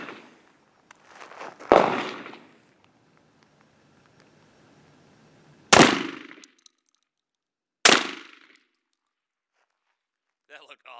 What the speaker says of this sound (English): now we're gonna shoot the 12 gauge semi-lethal first and then fully lethal rounds out of the Mossberg 930